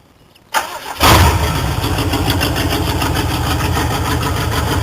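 A car engine with straight headers and no exhaust fitted cranks and fires at about half a second, then settles into a loud, steady, rough idle close to the microphone with no talking.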